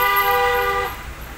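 A car horn honks once in a long, loud, steady toot on a main road in Darjeeling, close by, then cuts off to quiet road ambience.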